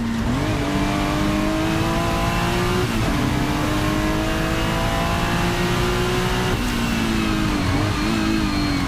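Chevy race car with a loud engine revving hard, the pitch climbing through three rising pulls with brief drops between gear changes, close and continuous.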